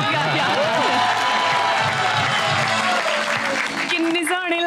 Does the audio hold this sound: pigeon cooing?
no